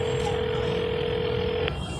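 A telephone being dialed to place a call, with a steady tone held for about a second and a half before cutting off, over a constant background hum.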